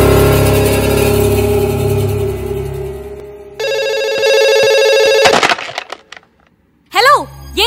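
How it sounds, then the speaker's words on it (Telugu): A telephone in a film scene rings loudly in a run of electronic bell tones. It is followed by sharp cracks and a sliding warble, over a low rumbling background. "ఏంటి అసలు ఫోన్ రింగ్ అవుతుంది ఎత్తరు?"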